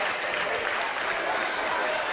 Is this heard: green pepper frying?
no